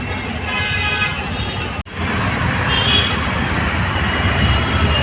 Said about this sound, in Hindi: ये देखो दिल्ली में कितना ट्रैफिक है